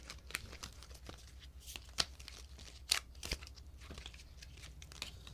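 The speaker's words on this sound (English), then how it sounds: "And I will shuffle the deck." A deck of ethics reading cards is shuffled by hand, giving soft papery rustling and crinkling with a few sharper snaps of card edges. It is quiet, close and continuous for several seconds, with no voices.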